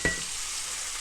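Onions fry in a cast iron pan, sending up a steady, close sizzle after a brief stir at the start, with no talking over it.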